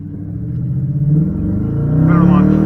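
A Dodge Challenger R/T with a 5.7-liter HEMI V8 launches hard for a 0-60 run, its deep engine rumble swelling as it revs and pulls away, loud and close, with a voice talking over it.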